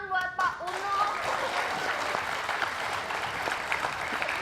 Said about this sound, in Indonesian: Tepuk tangan buat Pak Uno.